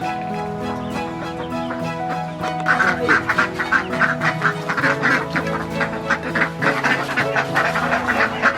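Ducks quack loudly while eating homemade duck feed, with chickens joining in. Their calls start sparse, then become a rapid, overlapping burst of raspy quacks close by.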